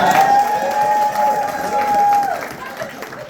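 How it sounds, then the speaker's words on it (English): An audience claps and cheers for a woman at a presentation, a fairly loud wash of applause and crowd noise that holds steady, then eases toward the end, with a sustained tone running through the first part. "Give her a round of applause."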